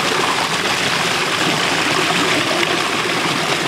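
Water running steadily through a spirulina filter cloth at a spirulina farm, a continuous rushing trickle heard up close with no talk over it.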